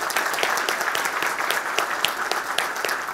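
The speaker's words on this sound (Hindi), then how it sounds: "एक बार ताली हो जाए." Continuous, lively applause from a group at a laughter yoga session. The clapping is dense and close throughout, with sharp individual claps standing out from the mass.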